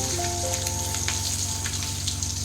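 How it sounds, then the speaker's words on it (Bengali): An egg frying in a pan over the stove for an egg curry: a steady close sizzle and fine crackle with a constant tonal hum beneath, no one speaking. "এইবার এইভাবে আমি ডিমটাকে প্রথমে লাল লাল করে ভেজে নেব।"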